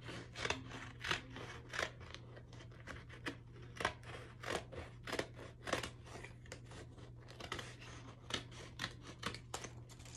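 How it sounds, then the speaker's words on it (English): Scissors cutting a corner off a plus-size sewing pattern, a steady run of crisp snips and paper rustles close by, repeating about twice a second over a low constant hum. "cut that corner completely off"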